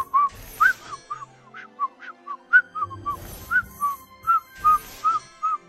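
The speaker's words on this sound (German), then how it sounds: "Glaubst du, Kaelin kommt heraus, wenn ich pfeife?" A series of bright, clear whistles in the game Hogwarts Mystery, with short rising and falling notes in quick runs and brief pauses between them, sounding close and loud over faint background music.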